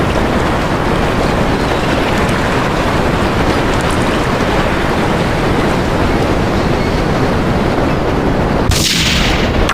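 A single sharp sniper rifle shot in Grand Theft Auto 3 bursts out near the end, cutting through a steady, loud wash of rain-like or surf-like noise that fills the whole scene.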